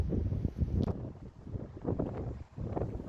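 Wind gusting across an open lawn on a blustery day, a low rumbling buffet against the microphone that swells and eases in uneven waves.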